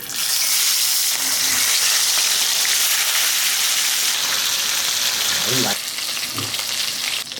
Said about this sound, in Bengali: তেল গরম হয়ে গেছে, এবার পমফ্লেট মাছটা